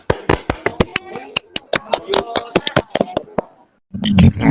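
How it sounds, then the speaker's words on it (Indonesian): A handful of quick, uneven hand claps from a classroom group during an online teaching-practice lesson, a few seconds of scattered claps over faint talk, ending in a short noisy rustle. "Baik, tepuk tangan dulu."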